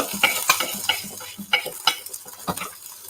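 A spoon scrapes zucchini and feta fritter mix from a bowl in quick, uneven strokes, clinking and rasping close up while oil sizzles faintly in a pan nearby.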